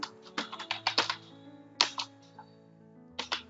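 Keys clack on a computer keyboard while text is typed for a Photoshop poster design, with short irregular bursts of crisp close taps separated by brief pauses.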